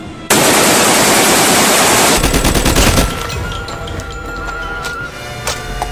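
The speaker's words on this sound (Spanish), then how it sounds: "Te voy a enseñar cómo mata de rápido esta arma." A loud, rapid burst of automatic gunfire, sustained for a few seconds, then trailing off into quieter clatter and tones of a game.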